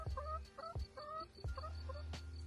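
Hens give short, repeated clucking calls in quick bursts, close and fairly clear, with no talking.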